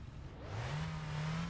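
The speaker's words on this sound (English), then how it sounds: "Give it a few revs" A car engine in the video game My Winter Car revs up, its tone climbing and holding steady, loud and close with no talking over it.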